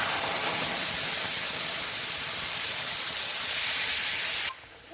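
Ground spice paste drops into a hot oil tempering for a vegetarian soybean omelette curry, giving a loud, dense, steady hiss that cuts off abruptly near the end, with no voices.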